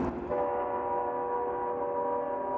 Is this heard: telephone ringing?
no